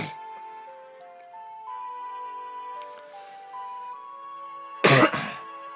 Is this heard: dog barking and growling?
no